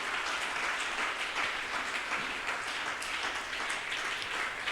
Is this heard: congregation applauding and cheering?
yes